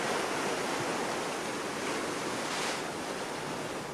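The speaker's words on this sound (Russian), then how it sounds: "А сегодня к тому же такой ветер." Strong wind roars steadily and loudly across the whole stretch at an outdoor fort in France, a dense broadband rush with slight swells, no voices.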